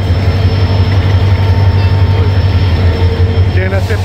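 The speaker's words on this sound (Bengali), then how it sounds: "আর এই যে ট্রেন দাঁড়ায় আছে" A train standing at a railway station platform, with a loud, steady low engine hum and rumble, plus a faint squeal near the end.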